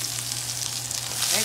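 Garlic frying in a pan during a keto Asian-style shrimp stir fry, a constant close sizzle and crackle at moderate volume that swells slightly toward the end, with no speech.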